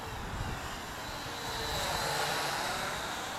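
Syma X8W quadcopter flying outdoors on a sunny, windy day, its motors giving a steady, even whir blended with broadband wind rush, fairly loud and continuous for a few seconds.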